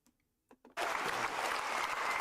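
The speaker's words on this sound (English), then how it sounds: "all these people clapping" After a few faint clicks and brief sounds, a crowd of people breaks into steady, dense clapping that fills the rest of the moment, heard quietly as playback from another video.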